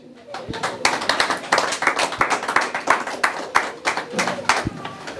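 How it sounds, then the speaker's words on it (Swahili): A church congregation at a Sunday service clapping hands in a quick, steady rhythm, dozens of claps over a few seconds, fairly close, with a murmur of voices beneath. "Piga makofi."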